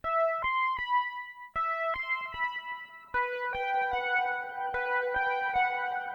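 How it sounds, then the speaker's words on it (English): A synthesizer patch in Ableton Live plays a clean, bell-like melodic line of separate plucked notes that later thickens into a denser sustained phrase, alone and with no voices. "I prepared a patch on my synthesizer that sounds something like this."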